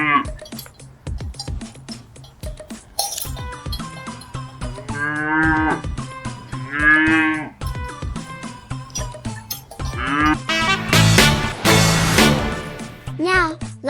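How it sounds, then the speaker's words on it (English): Cows grazing in a meadow moo several times, with drawn-out lowing calls rising over a busy, cheerful background of other sounds and a faint clink. "Listen to their gentle moo as they graze in the meadow."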